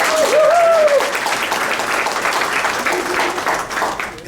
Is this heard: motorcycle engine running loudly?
no